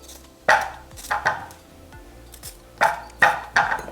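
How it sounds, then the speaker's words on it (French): A knife chopping bell pepper into small cubes on a board, sharp close-up knocks in uneven clusters of two or three, with brief quiet gaps between bursts. "on va couper dedans le poivron"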